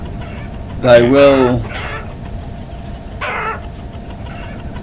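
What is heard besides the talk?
chicken clucking in the video game Vintage Story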